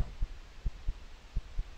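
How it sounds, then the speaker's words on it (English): A thudding heartbeat from the horror game Ghost Exorcism Inc. pulses as paired low thumps in a steady rhythm, loud and close with no other sounds. "I still hear the heartbeat"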